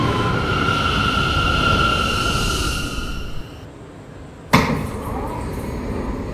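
Brooklyn-bound R179 New York City subway C local train running, with a steady rumbling roar and a high whine that fade, then a sudden loud clunk followed by renewed rolling noise close by.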